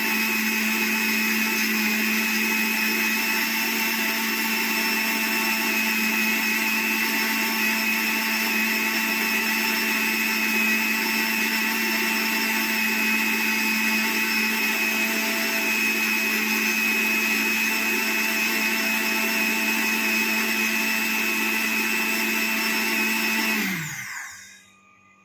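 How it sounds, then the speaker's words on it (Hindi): An electric mixer grinder runs steadily, grinding turmeric at a loud, constant high whine for over twenty seconds before the motor winds down and stops near the end. "आपकी ग्राइंड कर रही है मिक्सी।"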